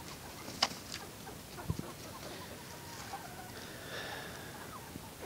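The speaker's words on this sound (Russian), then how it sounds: "Ну а теперь пусть куры клюют." Chickens peck at cabbage and cluck softly, with a few sharp pecking knocks and quiet scattered calls over a steady low background, fairly distant and faint, with no one speaking.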